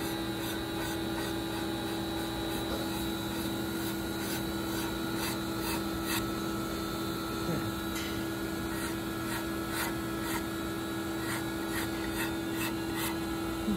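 Steel hand scraper shaving a wooden flintlock rifle stock, a steady soft rasping rub repeated in short strokes over a constant background hum, close and fairly quiet.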